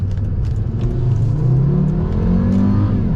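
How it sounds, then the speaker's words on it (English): A Volvo S60R car accelerating hard at full throttle, its engine rumbling loud and steady from inside the cabin as the revs climb continuously, with no talk. "Yep, I'm flooring it."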